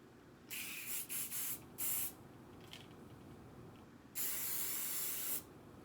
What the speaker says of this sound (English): spray to put the flyaways back